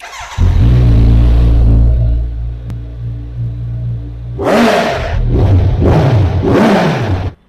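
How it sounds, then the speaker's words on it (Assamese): A Kawasaki Z900 900cc superbike engine idles with a loud, deep, steady rumble, then revs hard in three rising and falling bursts, each sharp blip roaring up close. "এইখনত আপোনালোকে 900 সিসিৰ ইঞ্জিন পায় কাৱাসাকি Z900 এইখন সুপাৰ বাইক হয়"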